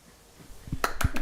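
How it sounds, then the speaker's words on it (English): A few sharp finger snaps made with one hand, close and crisp, three quick clicks near the end after a short quiet stretch. "This is one hand clapping."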